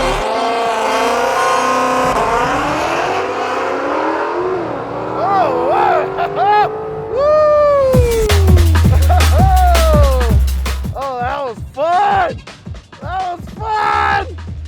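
Ford Mustang launching down a quarter-mile drag strip, the engine winding up hard through rising gear pulls with sharp shifts, loud and close, while people talk over and between the bursts of acceleration.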